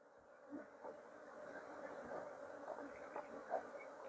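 Wild cavity-nesting bees hum around an open hive box during collection, a continuous mid-pitched drone with occasional louder passes as individual insects fly near.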